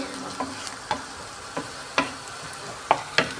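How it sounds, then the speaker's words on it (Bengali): Onions frying in ghee for chana khichuri, a soft low sizzle broken by several sharp scraping stirs of a spoon in the pan, fairly quiet and with no voices. "আমি দু চামচের মতো ঘি এটা দিয়ে পেঁয়াজটাকে বেজে নিচ্ছি"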